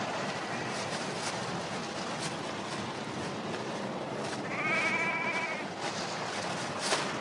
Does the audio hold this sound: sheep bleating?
yes